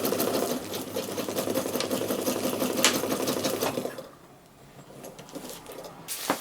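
Sewing machine stitching across the handle of a fabric utility bag: a steady, rapid mechanical whirr for about four seconds, then it drops to quieter handling noises, close by.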